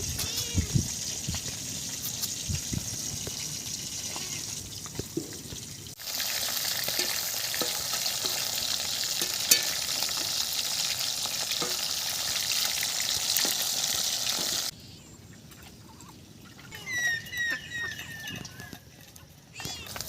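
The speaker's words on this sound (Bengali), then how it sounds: "মাছ ভাজা হয়ে গেছে, তুলে নেব।" Steady hiss of snakehead fish frying in hot oil, loud and continuous, with occasional clinks and a quieter stretch near the end.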